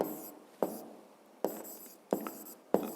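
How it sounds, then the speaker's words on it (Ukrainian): Pen or pencil writing on paper during a physics homework explanation, several short scratchy strokes separated by sharp taps as the tip meets the page, close and fairly quiet, with no voices. "Пишемо."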